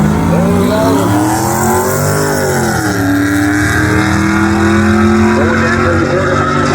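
A Camaro drag car at a quarter-mile strip runs loud and near, its engine climbing through rising and falling revs and gear changes as an announcer talks over the roar.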